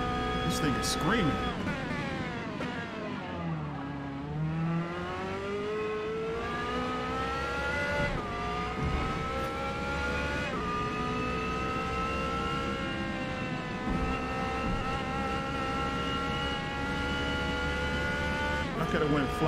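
A race car in Forza Motorsport's P2 series screams at high revs, its engine pitch sweeping up and down through gear changes and braking, loud and continuous, with a voice talking over it.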